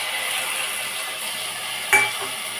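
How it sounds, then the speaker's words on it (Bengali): Tomato paste hits the oil with lightly fried green jackfruit in a pan, making a continuous gentle sizzle, then a single sharp utensil clink near the end. "এবার দিয়ে দেবো টমেটো বাটা"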